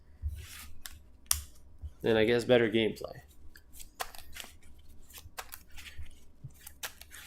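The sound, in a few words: shuffling a deck of Disney Lorcana trading cards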